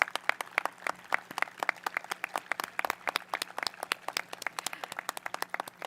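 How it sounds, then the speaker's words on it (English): Graduating seniors at a high school graduation clap for families in the stands, a sparse, uneven patter of distinct individual claps that sounds thin and somewhat distant, with no talk over it. "Seniors, please recognize these wonderful people in the stands with your applause."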